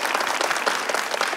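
An audience applauds singers after their performance, a dense, steady wash of clapping that stays loud from start to finish with no voices on top.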